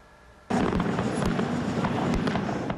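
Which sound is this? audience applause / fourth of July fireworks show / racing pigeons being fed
fourth of July fireworks show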